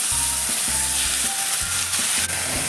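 Cumin seeds and grated raw potato frying in hot oil, a loud close sizzle with rhythmic stirring bursts, crackling steadily with no voices.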